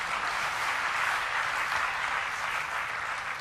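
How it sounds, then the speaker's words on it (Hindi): Sustained audience applause at a Jain religious discourse gathering, a steady dense patter of many hands clapping at even loudness throughout, with no talk over it. "एक बार ताली तो बजा दो"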